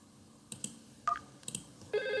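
Someone dials 7001 on a VoIP office telephone: four short key beeps at uneven intervals, then a steady ringback tone begins near the end. The sound is faint and close by in a quiet room.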